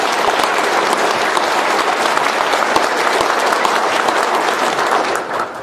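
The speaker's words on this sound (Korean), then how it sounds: "뜨거운 박수를 부탁드립니다" Dense, sustained applause from a seminar audience fills the room for several seconds, loud and steady throughout, then thins slightly at the very end.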